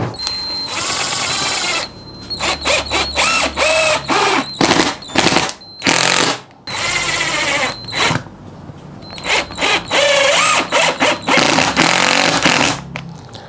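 A Mollar CIDR12150 cordless driver drives screws into plywood in repeated loud whirring bursts, short and long, broken by brief pauses, with a faint high whine running underneath.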